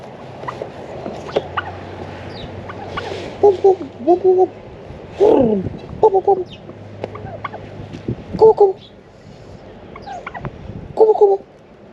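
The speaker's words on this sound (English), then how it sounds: "there's some big turkeys" Several bursts of turkey gobbling from large turkeys in a pen in Australia, loud and close, repeating every couple of seconds over a steady low rumble.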